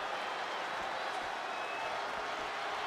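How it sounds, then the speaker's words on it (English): Arena crowd noise from the WWE 2K wrestling game, a dense, steady roar of cheering and faint clapping at constant loudness, with voices blending into the wash. "What a raucous crowd here tonight."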